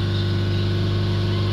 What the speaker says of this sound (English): So we hold the revs right up to 3000 RPM.